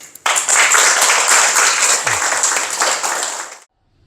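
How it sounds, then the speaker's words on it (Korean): A gathered assembly at a Korean Buddhist temple, Bomunsa, bursts into dense, loud applause at a retreat-completion certificate ceremony. The clapping starts abruptly, holds steady for about three seconds and then stops sharply into silence. "박수."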